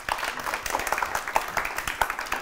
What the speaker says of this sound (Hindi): बहुत सारी तालियां अपने लिए बजाइए